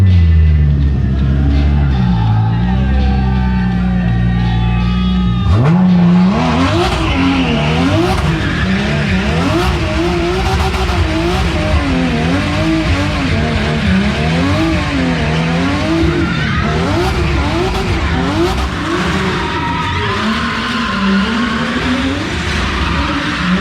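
Nissan 370Z NISMO drifting inside a warehouse, engine roaring loud and close with sustained, wavering tire squeal through most of the run after a lower idle-like opening.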